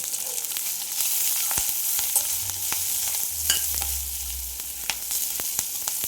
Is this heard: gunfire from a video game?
no